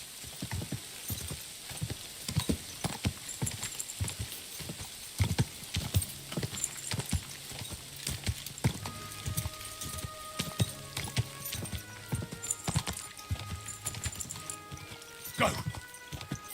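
Horse hooves clip-clop steadily in Kingdom Come: Deliverance, a rhythmic patter of footfalls that continues throughout under game sounds, with a voice speaking quietly over it.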